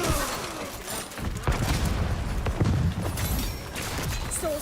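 A grenade goes off in the shooter Highguard amid ongoing gunfire and combat noise, heavy booms and bursts layered in a loud, busy battle soundscape with no voices over it.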